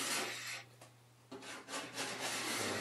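A hand scraper drags old finish off wood panelling in steady rasping strokes, close and fairly loud, with a short pause in the middle and no talking.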